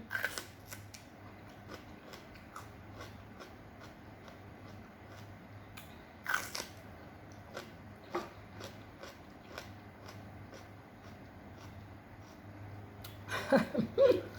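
Raw glass shrimp in fish sauce is bitten and chewed up close, making faint, scattered crunchy clicks and crisp bites. Louder munching comes near the end over a quiet room hum.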